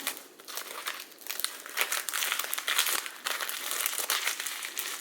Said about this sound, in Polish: I teraz wszystko jeszcze w tą folię tak bardzo mocno. I zawijamy sobie o w ten sposób.